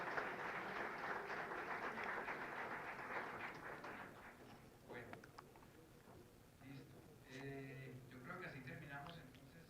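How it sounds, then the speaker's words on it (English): An audience at a cacao and complementary crops knowledge-sharing event applauds for the extension agents, with dense clapping for about four seconds that fades as a voice begins speaking. "Please, a round of applause for the extension agents"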